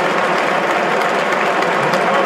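Football crowd at a Sheffield United versus Huddersfield Town match in South Yorkshire, a dense, steady roar of cheering and applause filling the stadium throughout, with commentary voices underneath.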